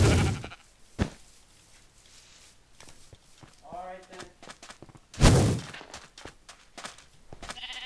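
Blocky video-game sheep bleating in Minecraft during a Mineplex sheep quest match, a wavering bleat rising briefly among sharp game hits and footsteps, with a player talking excitedly over the action.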